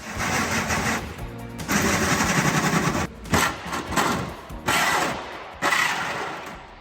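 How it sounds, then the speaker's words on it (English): Loud power drill whirring in bursts as it drills a hole in a car boot floor, starting and stopping several times with short pauses between runs, close by and with no talking. "And then it was time to drill a hole in the boot floor."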